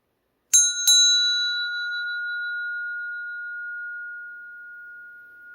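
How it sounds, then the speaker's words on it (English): Two quick bell strikes, a bright ding-ding, followed by one clear tone that rings on and slowly fades in an otherwise silent space. "Yay, I love bells."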